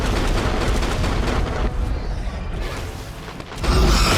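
Explosions in the game ARK Survival Ascended, a continuous heavy rumbling barrage of blasts and booming impacts, loud throughout, with a short lull before a fresh louder burst at the end.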